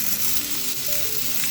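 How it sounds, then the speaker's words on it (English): Long-sliced onions sauteing in a pan for a Spanish omelette, giving a steady close sizzle and frying crackle with faint stirring, no voices. "I'm going to saute this well till it is brown."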